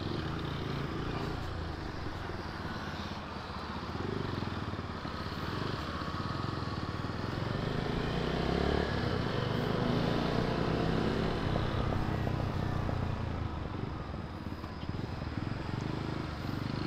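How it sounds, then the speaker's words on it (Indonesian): A Kawasaki W175 motorcycle with a full-system exhaust is ridden on the road, its engine a continuous rough drone blended with wind noise, steady and fairly loud throughout. "kalau udah diganti knalpot full system, ace-nya ditutup, akan meningkatkan tarikan, paling tidak tarikannya ya, tarikan dari Kawasaki W175"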